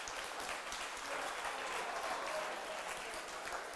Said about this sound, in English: So, a round of applause, please, for Colchester Kawasaki.